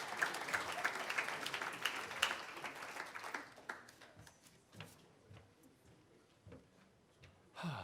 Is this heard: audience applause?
yes